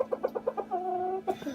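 A rooster guarding his flock gives a rapid string of clucks, then a long drawn-out crow ending in a final rising call, close and fairly loud.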